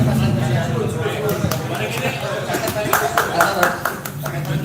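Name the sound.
clapping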